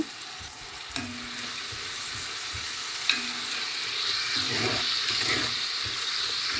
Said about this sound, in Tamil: அரை தேக்கரணி அளவு மஞ்சள் தூள் போட்டு இந்த வெங்காயத்தோடு சேர்த்து வதக்க போகிறேன்